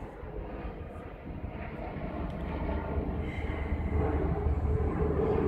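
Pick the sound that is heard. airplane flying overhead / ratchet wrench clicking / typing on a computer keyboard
airplane flying overhead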